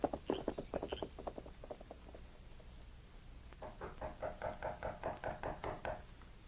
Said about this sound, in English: The knocking on the door finally wakened Jim.